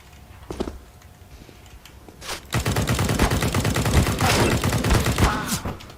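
Rapid bursts of SG 553 rifle fire in the shooter game CS:GO, starting after a few quiet seconds with scattered shots, then loud, dense, steady automatic fire for the last half, close and unbroken.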